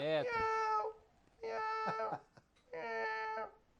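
A voice imitates a kitten's meow three times, each a drawn-out, whiny mew with clear pauses between, close and distinct.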